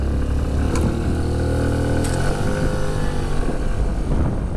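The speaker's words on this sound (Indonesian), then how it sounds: "Coba kita akselerasi dikit motor ini." A Suzuki Burgman Street 125 EX scooter engine revs up steadily while riding, a loud continuous drone with rising pitch as it accelerates, close by, with no talking.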